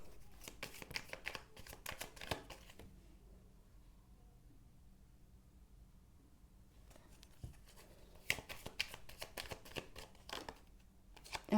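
Tarot cards being shuffled by hand, two bursts of rapid riffling and flicking close up, separated by a quiet pause of several seconds, with no talking.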